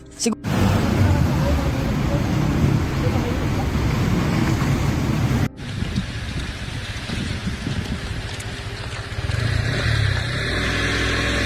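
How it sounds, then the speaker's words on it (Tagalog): Heavy typhoon rain pounding down during a strong storm in the rural Philippines, a loud dense roar that runs almost the whole time, with a brief break partway through. "nandito na po si Bagyong Ada sa aming lugar. Napakalakas ni Bagyong Ada."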